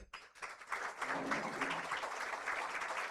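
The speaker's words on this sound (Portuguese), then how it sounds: "salva de palmas para Guy Carpenter" Applause from guests at a lunch event for women in insurance, clapping starting after a moment and building into a steady, moderately loud round from a room of people.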